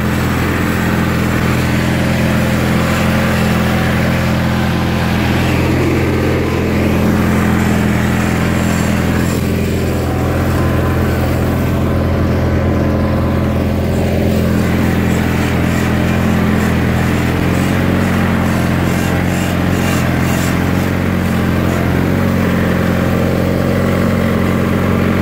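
A 1988 John Deere 318 garden tractor engine runs steadily at plowing load in an open field, a loud continuous drone with a slight waver and no pauses.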